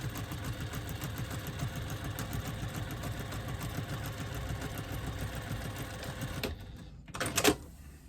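Sewing machine stitching a pop-it pouch runs in a fast steady rhythmic whir for several seconds, close and clear, then stops, followed by a brief clatter.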